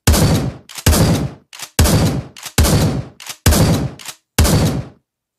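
Seven booming shotgun blasts of buckshot in the Pavlov Shack VR game, loud and close, each shot with a short tail, fired at a slightly uneven pace with brief gaps, followed by silence.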